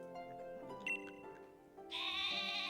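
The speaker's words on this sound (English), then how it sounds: "Wooloo, the sheep Pokemon." The cry of Wooloo, the sheep Pokemon in Pokemon Sword, is a short, tonal, bleating call with wavering pitch that ends in a brighter, higher note, clear and alone without voices.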